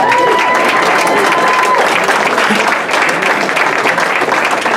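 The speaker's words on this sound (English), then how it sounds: "let's get our hands together and keep the noise going for your guests of honor, Jerry and Danny." Audience at a party clapping and cheering loudly for the guests of honor, a dense, steady wash of applause that holds for the full few seconds with crowd noise mixed in.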